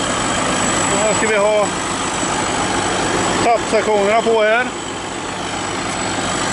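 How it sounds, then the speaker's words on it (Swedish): A tractor engine idles steadily in the background at a greenhouse build, a constant low rumble running underneath someone speaking in short bursts. "som ni ser, traktorn är full gång"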